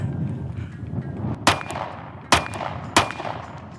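Three sharp gunshots from a Sig Sauer P365 X-Macro compact pistol with a built-in compensator, spaced unevenly about a second apart, each a loud crack with a short ringing tail over low background rumble.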